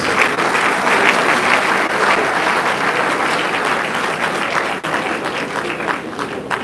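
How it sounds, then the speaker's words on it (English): Audience applause at a university convocation lecture in Calabar, loud sustained clapping from a large crowd, dense and even throughout with a brief dip near the end. "Please, another round of applause."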